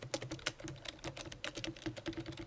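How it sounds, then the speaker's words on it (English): Rapid clicking keystrokes on a computer keyboard, steady and close but fairly quiet, in continuous bursts with no talk over them. "Why do I keep typing it like that?"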